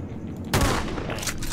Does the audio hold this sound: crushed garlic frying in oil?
no